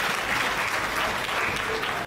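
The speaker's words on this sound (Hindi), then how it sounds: "एक बार जोरदार ताली बजा दीजिए" Audience applause at a comedy performance, a short burst of many people clapping, dense and even, stopping abruptly at the end.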